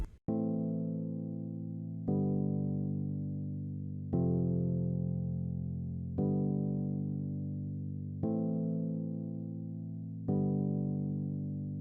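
An electric piano voiced with the Lounge Lizard Purity Vintage EP2 preset sounds a second-verse amapiano part: six identical sustained chords struck about every two seconds, each decaying slowly, with no other instruments.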